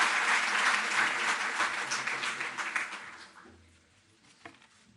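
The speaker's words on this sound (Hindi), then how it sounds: "जोरदार तालियों से आप अभिनंदन और स्वागत करें" An indoor audience at a Delhi government ceremony gives loud, dense applause that holds for a few seconds and then fades away to near quiet.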